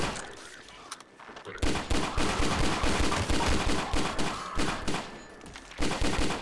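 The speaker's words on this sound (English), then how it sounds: "The Junkman is basically, it's a semi-automatic fire weapon, but you can fire pretty damn quickly with it" The Junkman, a semi-automatic weapon in Garry's Mod, fires as fast as the trigger is clicked, giving a loud, close string of rapid, evenly spaced shots with a brief pause near the start and another near the end.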